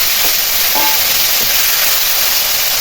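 Pointed gourd (potol) fries in hot oil with cumin and bay leaf, a loud, close, continuous hiss of sizzling with a faint stir or two and no voices.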